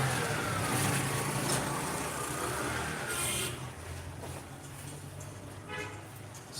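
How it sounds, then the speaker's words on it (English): Steady road traffic rumbles on a busy major road in Lagos, with cars and trucks droning past at moderate distance and an occasional faint horn toot, easing slightly quieter partway through. "I'm on the road and it's like there is traffic on the major road,"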